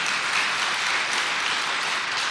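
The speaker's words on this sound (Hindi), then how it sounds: "जोर से ताली बजाओ।" A lecture-hall audience claps loudly and steadily throughout, a dense wall of applause with no pauses and no voices rising above it.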